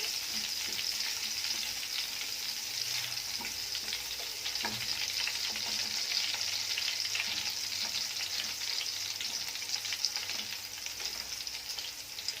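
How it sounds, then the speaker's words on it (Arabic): Garlic frying in oil in a single pot while making Egyptian koshari, a steady soft sizzle running throughout with faint scattered stirring clicks, close and continuous with no talking. "هنحمر بقى التومه كده"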